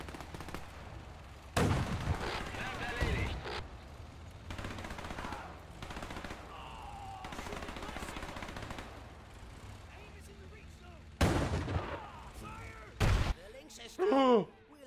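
Bursts of machine-gun fire and single gunshots crackle through combat in the video game Men of War 2, arriving in loud clusters separated by quieter stretches, with voices talking in between.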